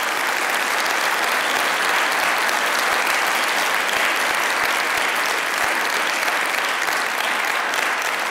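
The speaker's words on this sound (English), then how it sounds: "So I think a big round of applause for our panel." A crowd at a group discussion on national sovereignty gives the panel a long, steady round of applause, dense, even clapping that stays loud throughout.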